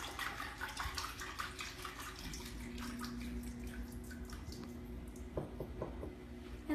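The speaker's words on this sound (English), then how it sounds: "just kind of let that water drain out." Water trickles and drips steadily from freshly rinsed shredded cabbage as it drains for coleslaw, a faint, close, continuous wet patter with a few louder splashes near the end.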